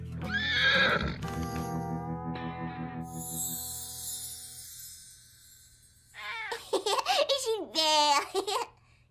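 A cartoon horse neighs and whinnies in a farm scene, a couple of shaky high-pitched bursts near the end after a musical passage and bright chime.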